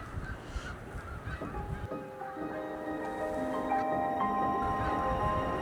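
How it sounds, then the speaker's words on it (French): A flock of snow geese honks continuously at a nature reserve during migration, many overlapping calls blending into a steady chorus that grows fuller over a low background rumble. "Les oies des neiges, c'est leur spot."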